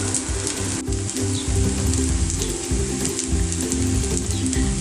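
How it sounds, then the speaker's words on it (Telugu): Aloo tikki potato patties frying in oil in a pan over medium flame, a dense continuous sizzle with a low bubbling rumble and occasional crackles, loud and close. "ఇవి కూడా అలానే ఫ్రై చేసుకుందాము"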